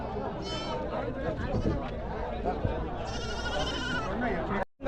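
Young goats bleat repeatedly at the Belur goat market in Salem, India, amid busy crowd chatter and people talking nearby, their high wavering cries cutting through the noise.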